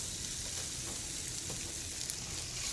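Large peeled, deveined shrimp pieces frying in hot oil in a nonstick skillet, a steady dense sizzle and crackle, close and even throughout with no talking.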